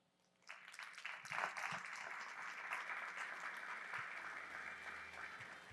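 Audience at a marketing talk applauding steadily, starting abruptly after a moment of quiet and holding as a dense, even wash of clapping from a crowd in a hall.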